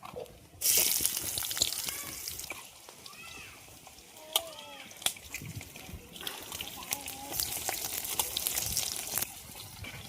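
Chopped onions and green chillies hit hot oil already seasoned with curry leaves and pulao spices for a chicken curry, hissing and spattering in a steady sizzle with occasional sharper pops and stirring scrapes, while people talk nearby.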